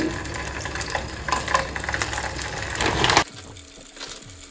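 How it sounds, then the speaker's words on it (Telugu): Frozen momos hit hot oil in a pan and set off a loud, steady crackling sizzle for about three seconds, then it drops abruptly to a quieter bubbling hiss. "ఇప్పుడు మోమోస్ ఇందులో ఒక్కొక్కటి ఇలా డైరెక్ట్గా ప్లేస్ చేసేస్తున్నాను."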